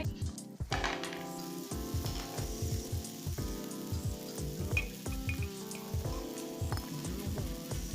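Aloo gobi cheese paratha fries in oil on a griddle, giving a steady close sizzle with many small crackling pops and a soft rhythmic pulsing running underneath.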